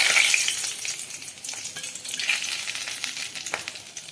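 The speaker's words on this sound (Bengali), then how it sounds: "শুকনো লঙ্কা আছে, এটা একটু দিয়ে দেবো তেলে।" Dried red chillies and a bay leaf sizzle in hot oil, a loud crackling hiss that starts strong and eases, with small pops and a few scrapes of a spatula. No one speaks.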